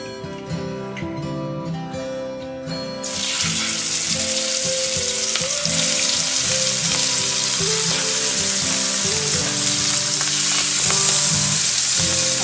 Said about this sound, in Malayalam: അതാ എണ്ണ ഒഴിക്കുന്ന ഉണക്ക മുള്ളം പൊരിക്കുക.